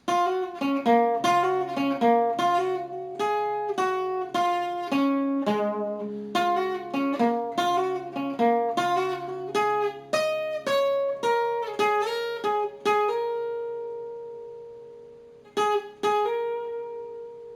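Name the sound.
guitar playing full solo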